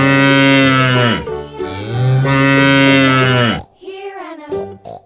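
A cow moos loudly twice in long, drawn-out calls as part of the Old MacDonald children's song, followed by brief quieter sounds.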